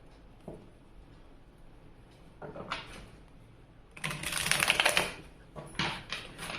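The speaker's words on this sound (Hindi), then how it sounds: "तो चलिए कार्ड शफल करते हैं।" Tarot cards are shuffled by hand, giving quiet papery flicks that swell into a dense, louder riffling burst midway, then return as short shuffling rustles close by.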